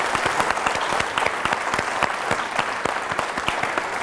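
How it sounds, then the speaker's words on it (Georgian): Applause from an audience at a school event honouring top students in Terjola, Georgia: steady, dense clapping with distinct individual claps, mid-distance, continuing without a break and without voices. "ეს აპლოდისმენტები თქვენ."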